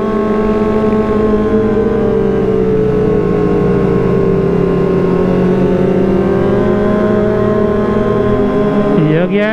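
A Kawasaki ZX25R motorcycle revs hard in second gear, its high-pitched inline-four wail holding loud and near with rising and falling pitch sweeps. Voices can be heard faintly under the engine.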